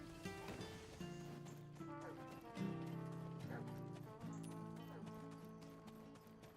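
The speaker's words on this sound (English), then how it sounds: "Depending on how far it is, I should take my horse." Horse hooves clip-clopping in the Black Desert Online game, a steady rhythmic patter running throughout over a sustained musical soundtrack, with a brief louder burst partway through.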